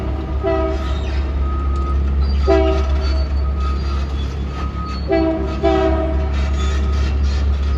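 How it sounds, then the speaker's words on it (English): A westbound New York and Atlantic RS41 locomotive heading to Fresh Pond on Long Island sounds several loud, sustained horn blasts in three bursts over a steady low rumble of the passing train, with no voices. "Here comes westbound New York and Atlantic RS41 heading back to Fresh Pond"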